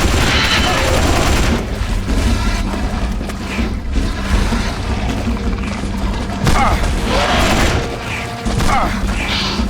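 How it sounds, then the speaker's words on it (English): Gunfire and explosions from the video game Jurassic: The Hunted, with a grenade throw amid loud, dense bursts of shots and booms that run throughout, along with some heavy crashing impacts. "I don't know how well the grenade throw is gonna work."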